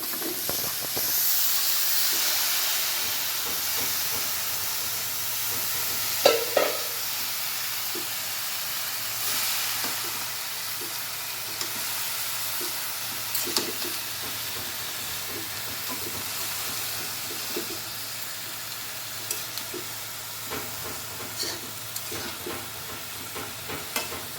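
Leafy saag greens cook with poa fish, turmeric and chili powder in a pan, giving a steady close sizzle and hiss with occasional stirring clatters throughout.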